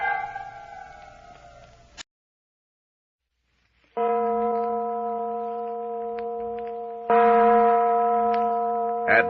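A radio drama church bell sound effect tolls in long, ringing strokes. A sustained resonant tone fades out, then after a few seconds of silence a louder, steady humming toll rises and swells again.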